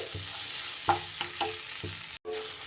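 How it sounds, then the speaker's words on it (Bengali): Raw mango rice with split green chilies stirred in a pan, a steady sizzling hiss broken by several soft scraping strokes of a spoon against the pan. "এবার সব কিছু আবারও একবার মিশিয়ে নিচ্ছি।"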